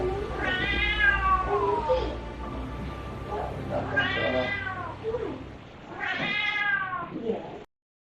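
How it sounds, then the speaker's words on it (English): Three long, wailing cat meows, loud and close, each rising and falling in pitch with short pauses between, over a low rumbling background. "the cat starts going nuts"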